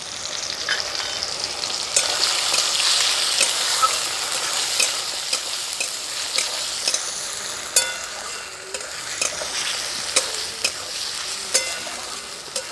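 Raw peanuts and grated coconut fry in hot oil with chopped tomato, giving a loud continuous sizzle punctuated by sharp clicks of a spatula scraping and tapping the pan, with no talking.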